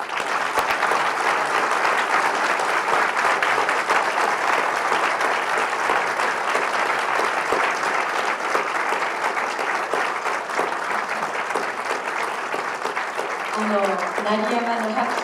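A large audience applauds loudly and continuously after a speech by someone, dense clapping sustained throughout with a brief voice emerging near the end.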